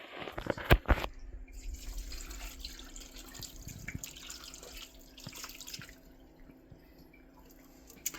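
Water from a tap splashes and pours into a pressure cooker for a sausage and potato dish, with a loud clatter at the start, then a steady, fairly quiet trickle with occasional drips.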